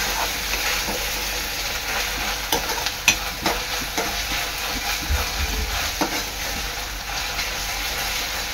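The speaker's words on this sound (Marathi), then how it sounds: "पेस्ट चांगली परतून घ्यायची आहे तेलात" Ginger garlic paste sautéing in hot oil for a black-eyed pea and potato curry, a loud continuous sizzle with occasional stirring scrapes and taps of a spoon, close up.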